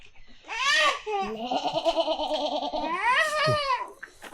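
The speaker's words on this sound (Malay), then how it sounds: "Abang ada kambing tua." A goat at a zoo in Kemaman, Terengganu, bleats in long wavering cries close by, with several drawn-out calls in quick succession.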